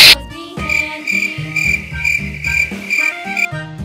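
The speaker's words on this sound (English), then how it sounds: "Cricket." Cricket chirping in a steady rhythmic series of bright pulses, close and clear with no other sounds.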